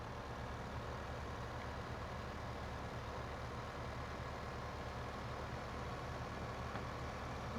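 A YuMZ tractor engine runs steadily after starting, a dense, even low rumble that holds at a constant level throughout with no voices.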